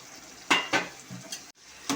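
Tomatoes and chillies being sautéed in a pan with salt, a quiet sizzle punctuated by a few sharp spoon scrapes and clinks against the pan.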